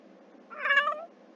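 A tiny kitten gives a single clear meow, rising and falling over about half a second, close and fairly loud against a quiet background.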